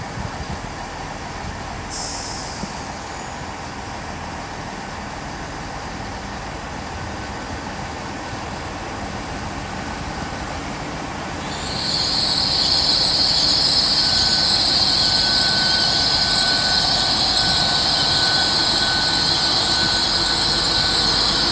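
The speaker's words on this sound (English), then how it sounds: "now getting ready to depart, the 800 316 with the 1244 Great Western Railway service to Hereford" Great Western Railway class 800 train departing Oxford station, a steady rumbling drive that swells louder partway through, joined by a sustained high whine and faint squeal, heard close with no talk.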